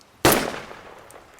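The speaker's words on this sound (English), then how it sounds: "A gunshot." Single gunshot as a sound effect in a lakeside night story: one sharp, loud crack that strikes suddenly and then decays in a long fading tail into quiet.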